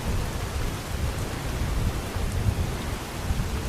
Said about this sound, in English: Get out of the rain for a little bit.